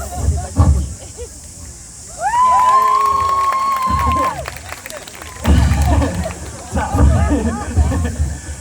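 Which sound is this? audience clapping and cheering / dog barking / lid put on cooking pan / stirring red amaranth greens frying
audience clapping and cheering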